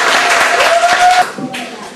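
A crowd at a folk music night claps and cheers briefly, the dense applause mixing with a voice heard over it before it thins out.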